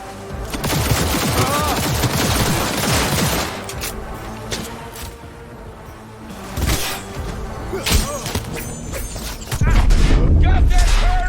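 Gunfire in the video game Cyberpunk 2077: loud bursts of rapid automatic shots and sharp single cracks, with thuds and a shattering crash, broken by brief lulls, while game characters shout over the combat.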